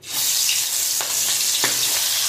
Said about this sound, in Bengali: তেল গরম হয়ে যায়, এক একটা করে কাঁকড়াগুলো দিয়ে দেবো।